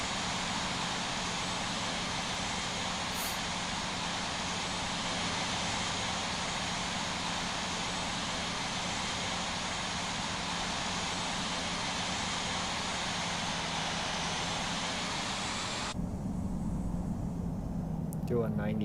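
An airliner taxiing toward the runway in the Infinite Flight simulator gives a steady, continuous engine hum and whine that holds unchanged for about sixteen seconds, then drops away abruptly to near quiet.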